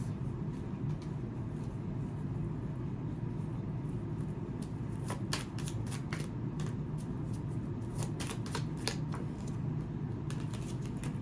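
Tarot cards are shuffled in quick riffling bursts over a low steady background hum, the crisp flutters clustered in the second half and fairly faint.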